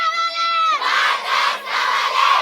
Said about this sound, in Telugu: నీళ్లు కావాలి అని కుతికలు పోతట్టు అరుస్తున్నారు ఆడపిల్లలంతా